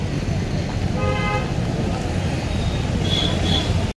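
Busy road traffic outside Vapi railway station, with a steady loud rumble of vehicles, a short horn toot near the middle and another pair of honks toward the end.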